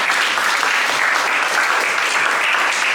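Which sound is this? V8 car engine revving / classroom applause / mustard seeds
classroom applause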